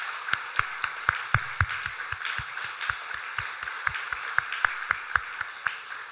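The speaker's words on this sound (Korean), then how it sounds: "우리 꽃다발 전달할 때 힘찬 박수로 축하하도록 하겠습니다" A church congregation claps in rhythm to celebrate a flower bouquet being presented, a steady beat of sharp, even claps repeating about four times a second and carrying through to the end.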